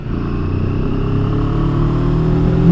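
A 2022 CFMOTO 700 CL-X motorcycle accelerating in sport mode in fourth gear, a steady low engine drone rising gradually in pitch and loudness, heard alone with no talk.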